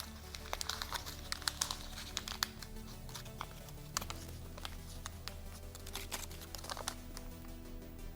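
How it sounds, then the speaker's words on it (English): Close, quiet crinkling and crackling of a paper bill being crumpled in irregular bursts of small snaps, continuing throughout with no voices. "And you can actually crumple up this bill."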